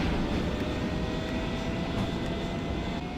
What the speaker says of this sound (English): that was like an actual sonic boom from a jet taking off